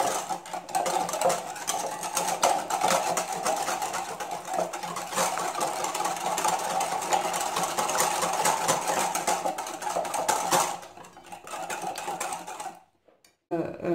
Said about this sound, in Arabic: من بعد ما ضربت البيض مزيان غادي نضيف 7 ديال المعالق